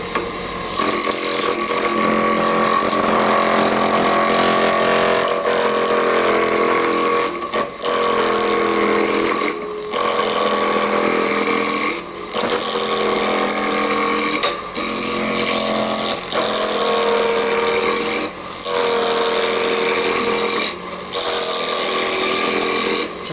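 A wood lathe turning a chess pawn with a sharp roughing gouge, a loud continuous whirring, scraping cut interrupted every few seconds by brief pauses as the tool is lifted, no talk.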